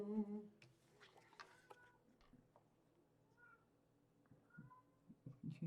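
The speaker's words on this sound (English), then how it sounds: "I have 2 cats. The one you hear is him." A pet cat meows several times indoors, faint and close, with soft thumps as he plays with his toys.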